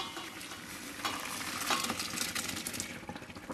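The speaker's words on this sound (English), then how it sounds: "we're just going to drain it in the colander" Cooked pasta and its hot water are tipped into a colander, giving a continuous soft rush and splatter that peaks midway and then tapers off. The sound is fairly quiet, with no voices.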